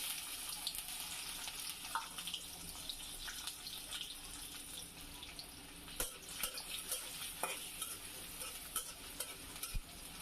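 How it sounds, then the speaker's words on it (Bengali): Onion, garlic and green chili frying in hot oil for a Bangladeshi mixed vegetable dish, giving a steady hissing sizzle with scattered clicks and scrapes of stirring, close and quiet, with no speech. "আমি তেল গরম হয়ে গেছে, পেঁয়াজ রসুন কাঁচামরিচ দিয়ে দিলাম।"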